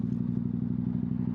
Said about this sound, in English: I think that adds to the rawness and the noise of this bike.